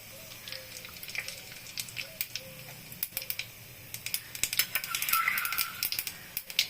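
Mustard seeds and black cumin crackle and spit in hot oil left from frying boroli fish, a quiet run of scattered pops and ticks that grows busier and louder toward the end, with no voices.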